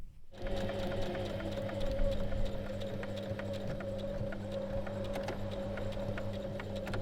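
A sewing machine stitches across the bottom edge of a robe's folded binding, running as one steady, even mechanical hum with a fine rapid needle patter throughout.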